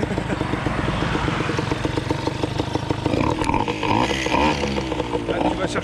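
An AV88 custom motorcycle engine runs close by with a steady, throbbing idle that swells into a brief rev near the end.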